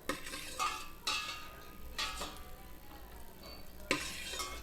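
Light frying for payasam comes through quietly as a soft sizzle, broken by repeated scraping and clinking stirs against the pan about once a second, with no talking.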